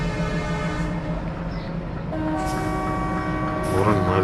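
A WDM3D diesel locomotive in an Indian train video game sounds a sustained, droning horn note that shifts pitch partway through, loud and steady over a rumbling engine background.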